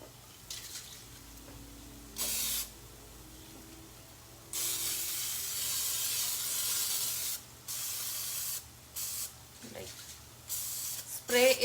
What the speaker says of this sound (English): I'm going to flip these and oil spray on the other side